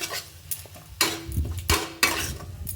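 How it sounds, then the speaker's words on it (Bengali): A utensil stirs pasta and fried potatoes in a pan, giving sharp clinks and scrapes against the metal at irregular intervals, close but quiet. "আলুগুলোকে দিয়ে দিয়েছি দিয়ে এটাকে আমি এভাবে নাড়াচাড়া করতে থাকবো"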